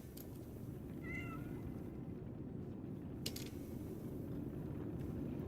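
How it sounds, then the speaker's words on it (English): A small kitten in the video game Lies of P gives one brief, faint meow over a constant rumbling background, followed later by a soft mechanical click. "Ah, that's a kitty."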